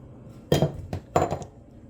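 Chopped callaloo mixed into johnny cake dough by hand makes a few short clinks and knocks against a bowl, two clustered taps then a third, close and moderately quiet.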